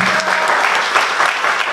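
A church congregation applauds during a Sunday worship service, a loud, dense wash of clapping that holds steady and close for the whole stretch, with no pause.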